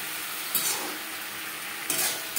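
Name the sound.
potatoes and vegetables frying with spices on high flame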